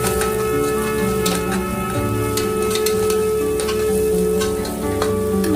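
Green chilli paste, coriander and mint sauté in a pan for green peas pulav, a loud continuous sizzle with crackling pops scattered throughout.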